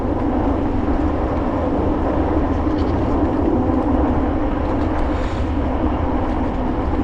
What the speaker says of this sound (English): You can hear the trains on the other side.